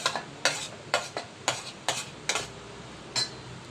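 Onion and garlic stirred in a frying pan, giving seven sharp scraping strokes spaced about half a second apart over a steady low sizzle, close and fairly loud.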